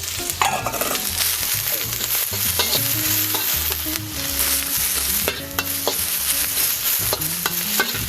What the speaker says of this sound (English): We're just going to add in just a little bit more oil. and we're going to throw in our peppers.